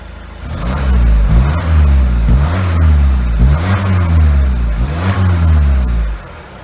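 A Volkswagen MK7 Golf TDI Sportwagon diesel engine with an aftermarket exhaust revs repeatedly through several gear shifts, a deep throaty exhaust rising and dropping in rhythm as the car accelerates.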